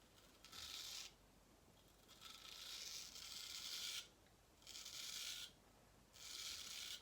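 A shaving brush whips up dense, wet lather in a bowl, making loud swishing bursts of about a second each that start and stop in turns, close and with no voice.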